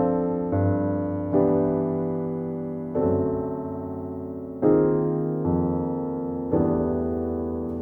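Jazz piano chords held with the sostenuto pedal, struck one after another in a slow sequence of seven or so sustained chords that ring out and decay alone, close and clear.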